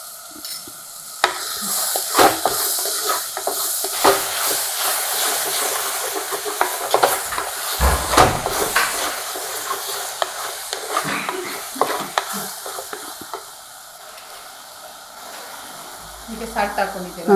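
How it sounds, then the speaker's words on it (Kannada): Food sizzles steadily in a hot pan, a dense continuous hiss with intermittent stirring scrapes and clatters, close and fairly loud, fading slightly toward the end. "ಈಗ ಅದು ಚೆನ್ನಾಗಿ ಫ್ರೈ ಆಗುತ್ತೆ ಫ್ರೈ ಆಗ್ತಾ ಇದೆ"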